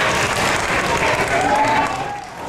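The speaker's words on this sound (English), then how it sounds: "Give our staff a big applause" At a school's African American History presentation, the audience applauds the school staff: a sustained, even roar of many people clapping that fades toward the close.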